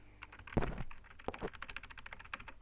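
Computer mouse and keyboard at a desk, a close, quick series of sharp plastic clicks and taps, some in rapid bursts, with no voices.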